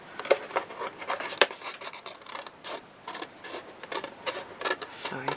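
Scissors cut out a pencil-traced paper shape for a Graphic 45 Gilded Lily mini album, giving a run of close, dry rasping snips in an irregular rhythm, fairly quiet and with no talking.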